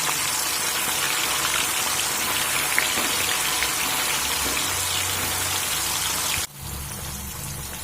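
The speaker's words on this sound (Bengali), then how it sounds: "এবার এখানে যে পনিরগুলো আমি লবণ মাখিয়ে রেখেছি পনিরগুলো ভেজে নেব" Salted paneer pieces frying in hot oil give a steady, dense sizzle that fills the scene, crackling like heavy rain, then drops sharply and settles to a quieter hiss near the end.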